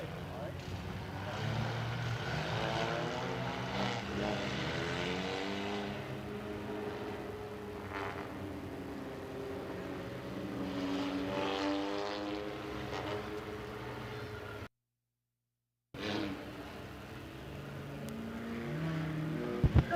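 Race cars circling an oval track during a heat race, with engines droning and rising and falling as they pass near and far, under continuous announcer commentary.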